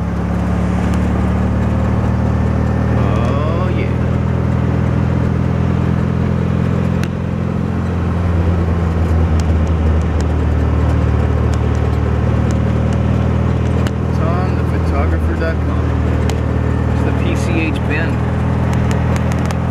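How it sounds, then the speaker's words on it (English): A car drives steadily through a village near Redondo Beach, its close, continuous engine and road rumble filling the cabin with slight swells in pace, while muffled voices can be heard now and then. "let's drive through the village"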